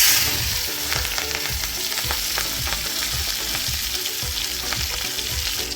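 Green chillies go into hot ghee with red chillies and cumin, raising a dense, loud, continuous sizzle with soft clinks of stirring close by.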